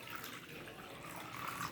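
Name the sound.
water poured into a bowl with rock salt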